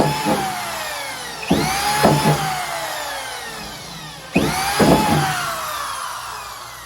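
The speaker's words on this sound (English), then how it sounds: "The drill bit is actually working like a CNC cut at the sides of it." A power drill bores into a BMW fuel tank in three bursts, each a loud whine that rises and then falls as the bit bites into the metal, with brief pauses between.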